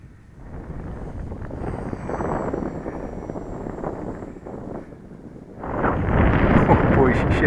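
A radio-controlled model airplane flies at a field, its engine a steady droning whine mixed with wind buffeting the microphone, swelling louder near the end as the throttle opens up.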